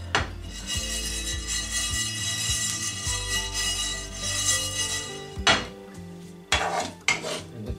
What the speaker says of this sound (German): Da springen mir die Senfkörner.